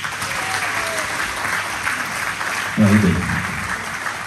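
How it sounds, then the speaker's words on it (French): Audience at a wedding celebration in Saint Paul en Chablais applauding, a steady, full burst of clapping with a voice briefly calling out near the end. "messieurs, dames, applaudissons"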